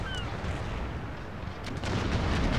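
Ship cannons in Empire: Total War (Darthmod) fire a broadside at sea, a dense continuous rumble of booms that swells louder near the end, without talk.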